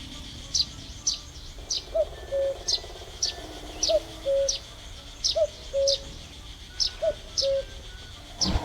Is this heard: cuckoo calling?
yes